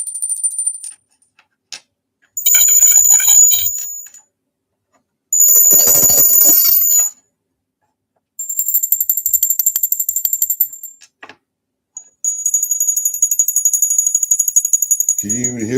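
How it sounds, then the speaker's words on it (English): A set of small angel bells rings close by in several separate bursts, each a bright shimmering high tone with its own pitch and a quick metallic tremble, sounding alone between short silences. "Each one of these bells is very unique with its own sound."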